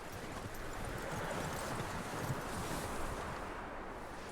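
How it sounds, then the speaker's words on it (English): A horse in Red Dead Redemption 2 moving along, with soft, fast hoof clops buried in a dense, even wash of wind-like noise, no voices. "That looks like a decent horse."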